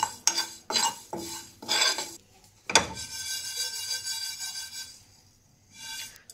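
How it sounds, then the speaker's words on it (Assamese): Two spoons of cumin seeds roast in a pan over a low flame, with several scraping strokes of a spatula and clinks against the metal between soft sizzling, close and moderately loud. "ঠিক তেনেদৰে জিৰাখিনো কম জুইত ভাজি লম"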